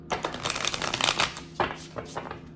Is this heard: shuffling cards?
yes